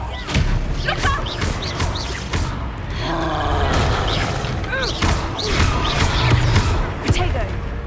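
Spell-casting effects in Hogwarts Legacy, the Expelliarmus disarming charm, crackling and booming amid a busy battle soundscape of thuds and crashes, with a voice speaking over the action.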